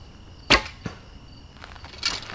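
Arrows striking a foam 3D archery target at an outdoor traditional archery shoot, giving a sharp thwack and then a softer second impact, with another dull hit near the end over quiet wind and background.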